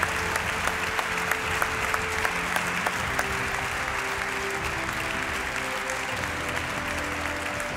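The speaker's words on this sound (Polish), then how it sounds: "Wielkie brawa dla dwóch wielkich dyrygentów." Steady applause from a large audience at an awards gala, dense clapping filling the space without pause, with a few sharper claps standing out.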